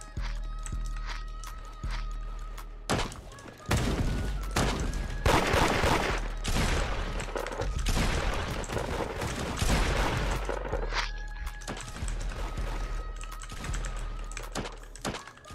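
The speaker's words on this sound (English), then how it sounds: "There's no way this dude just shot me" Gunfire in the Roblox game Da Hood as the player gets shot, with sharp bursts of shots clustered through the middle and quieter footsteps and clicking around them.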